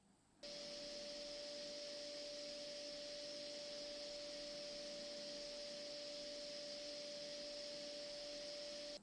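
A steady, high-pitched whine from a PC cooling fan runs continuously at a low level, broadband airy hiss beneath a thin tonal note, nothing else.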